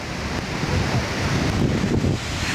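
Ocean surf rolls steadily onto a coastline in Iceland, a broad continuous wash of breaking waves with heavy wind buffeting the microphone throughout, no voices.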